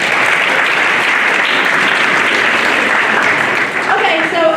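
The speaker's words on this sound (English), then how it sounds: "round of applause for SGA for everything" A student government audience breaks into steady, dense applause at a spring State of the Association event, loud and continuous throughout with a brief dip near the end.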